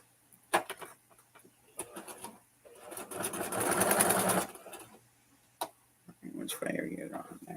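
A sewing machine runs in short stitching bursts, with one steady longer run in the middle, close and fairly quiet, separated by clicks and handling noises.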